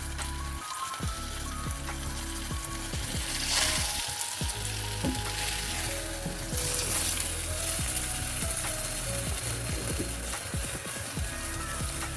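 A taco frying in a pan gives a loud, continuous crackling sizzle close by, dense with irregular pops and spits throughout, with no voices.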